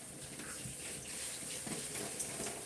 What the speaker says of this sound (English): we're rinsing out the shampoo so we can get on to the next step